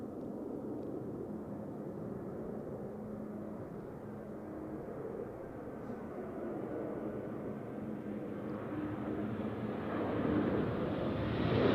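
At Zurich Airport on a crosswind day, a distant aircraft rumbles steadily and slowly grows louder and brighter toward the end, with no speech.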